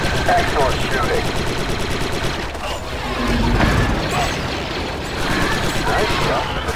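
Bursts of blaster and rifle fire from Star Wars Republic Commando crackle steadily in a dense, busy battle mix, with several swells of rapid shots and game effects layered under voices.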